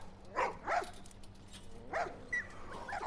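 A few short dog barks and yips from a pen of puppies in The Last of Us video game, spaced apart with a quiet gap between them, moderately close over a low background hum.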